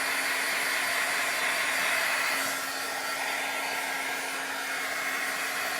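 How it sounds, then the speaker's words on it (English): A heat gun blows steadily over a mixed media painting to dry it, a constant airy whoosh with a steady motor hum, held at a distance and running alone without talk. "now I'm going to hit it again a little bit with my heat gun, kind of try to finish the drying process"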